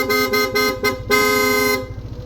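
Stock horn of a Yamaha Aerox V1 scooter blaring close and loud in a few short repeated honks followed by one longer blast, then cutting off to a low idle hum.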